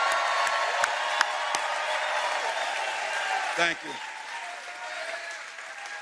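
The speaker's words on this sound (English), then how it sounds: "Can we give a round of applause too for Orange Peel for hosting us right here?" A rally crowd at the Orange Peel in North Carolina applauds with a few whoops, a dense steady wash of clapping that carries on under a brief spoken thanks.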